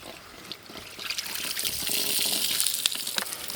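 Water poured into a vessel while making rasmalai sweet in a village kitchen, a soft splashing trickle that grows louder and fuller midway and keeps running steadily, close by with no talk.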